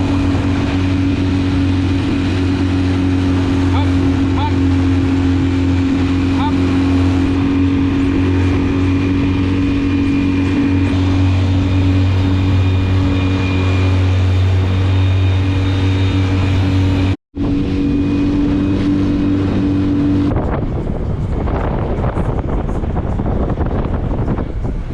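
A dinghy outboard motor drones steadily on a three-mile trip across the water, a loud continuous engine hum with wind rush, briefly dropping out before the tone changes near the end.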